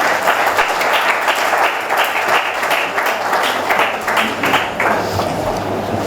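Audience applause at a university FM radio station's 21st anniversary ceremony, as guests are invited onto the stage: steady, dense clapping from a sizeable crowd, sustained for several seconds and heard on its own.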